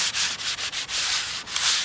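Steady abrasive sanding strokes on a Sailworks Retro 6.0m windsurfing sail being modified for windfoiling, a rough rhythmic scratching that repeats several times with brief pauses, close and moderately loud, no voices.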